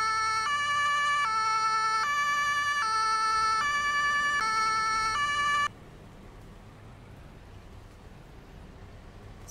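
A wailing ambulance siren from an emergency vehicle in Landwirtschafts-Simulator 22, a game ambulance heading to a mass-casualty hotel callout; the steady, loud two-tone sweeps run for about six seconds and then stop, leaving faint background hum.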